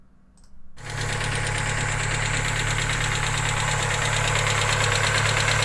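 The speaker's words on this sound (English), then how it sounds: "we pulled a plug wire and I cranked it up" A car engine deliberately running with one spark plug wire pulled cranks over and catches, then settles into a loud, steady, rough idle with a constant drone that goes on without a break.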